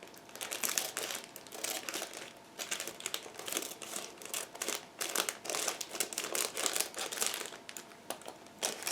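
Plastic packaging crinkles and rustles in irregular close bursts as sprues from an IBG Models 1/35 Rosomak kit are freed from their bag, the crackling continuing steadily with brief pauses.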